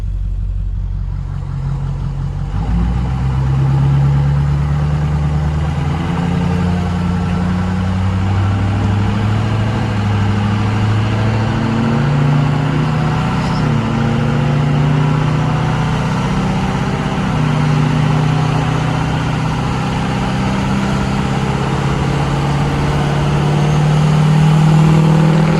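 A 6.0 Powerstroke diesel truck engine with a non-VGT drop-in turbo runs steadily and loud, its deep drone joined by a faint turbo whistle, holding roughly constant throughout.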